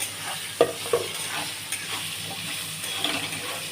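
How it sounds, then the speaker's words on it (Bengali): Potatoes sizzle steadily frying in hot oil while a spoon scrapes and stirs the pan a few times. "আলুগুলো একটু ভাজা হবে বন্ধুরা।"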